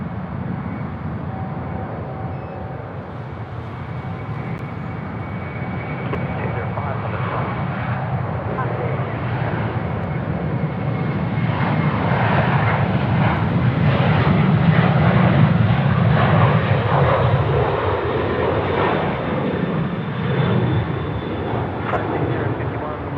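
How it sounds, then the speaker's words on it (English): LATAM Boeing 787 at Sydney Airport heading for a runway 34 right departure, a steady jet engine roar that builds toward the middle and then eases, with talk running underneath throughout. "We've got our LATAM aircraft. It's a 787 coming down for a departure off runway 34 right."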